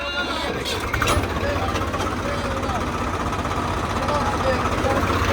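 A Swaraj 855 tractor engine runs with a low, throbbing idle and a steady mechanical knock, close by, while voices talk over it.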